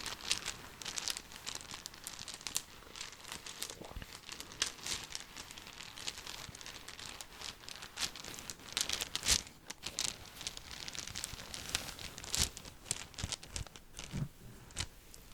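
Dice clatter and rattle together inside a cloth bag in close, quiet ASMR-style handling, a continuous soft stream of small clicks and muffled knocks with no talking.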